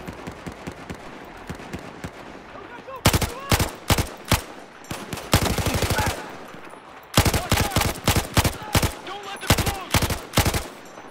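A light machine gun in Battlefield 4 fires in loud, close bursts of rapid rattling shots, separated by short pauses, over a low background of ambient game noise.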